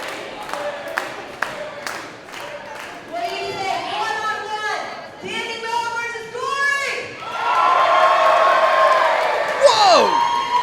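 Crowd at a live independent wrestling show: rhythmic claps at first, then whoops, yells and chanting voices building into loud sustained cheering that fills the hall, fairly close.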